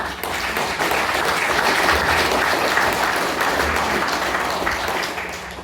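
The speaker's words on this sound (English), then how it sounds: "One more round of applause for them." A crowd applauds steadily at a Brant Ward 5 by-election candidates' night, a dense wash of clapping that holds loud for several seconds before tapering slightly at the end.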